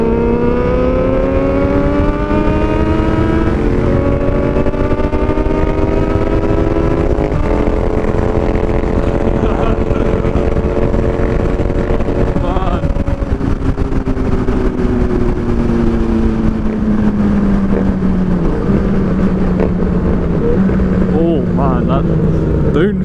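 Motorcycle with loud aftermarket exhaust pipes revving hard through gears on a forest ride, repeated downshifts making pitch jumps and sweeping engine tones, close and loud throughout, with wind roar underneath.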